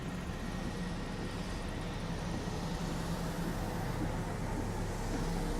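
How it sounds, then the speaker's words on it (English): A generator runs with a steady, unbroken mechanical hum and low rumble in a bunker-like setting in Everybody's Gone to the Rapture, moderately loud and constant throughout with no voices. "The generator's running."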